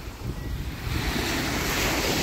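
Sea waves wash onto a clean beach in Kuwait, a loud continuous rush of surf building in strength, mixed with heavy wind buffeting the microphone.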